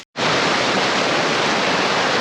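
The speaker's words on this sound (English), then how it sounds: "I apologize for the amount of noise, but it's because I'm next to a beautiful river running through here." A river rushing close by, heard as a loud, steady broadband roar that begins after a brief silent moment and continues unbroken, with no voices.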